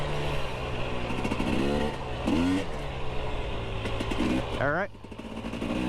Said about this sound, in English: I really like the throttle response of this bike.